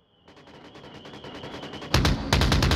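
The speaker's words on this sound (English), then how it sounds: "Some gunfire from Bass here" Rapid bursts of gunfire in the VR shooter Onward during a competitive match, a steady stream of shots that grows louder, then two heavy, close blasts near the end.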